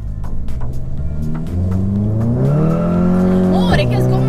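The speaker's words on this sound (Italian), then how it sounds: "Amore, che sgommata!" A 330 hp car's tires squeal in a burnout as the engine revs rise in pitch, loud and close, with people talking inside the car.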